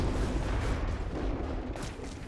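Rifle shot in the video game Forgotten Hope 2, a loud, dense, rumbling blast that fills the whole moment and slowly fades out.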